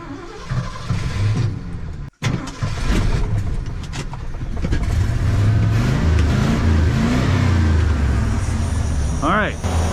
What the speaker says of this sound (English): Half the engine's flooded and the other half running lean.